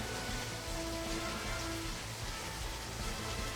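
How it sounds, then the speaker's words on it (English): Steady, even rain hiss in a roguelite tactical RPG battle, a soft continuous wash of falling rain with no talk over it. "Plus it's raining."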